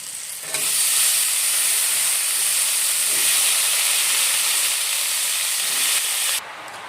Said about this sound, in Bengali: এখন শাপলাগুলো কড়াইতে দিয়ে দেবো আমি